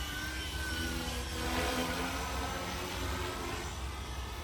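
A Coast Guard-style RC helicopter flies with a steady, droning whine and rotor buzz that holds at an even loudness throughout, with no speech over it.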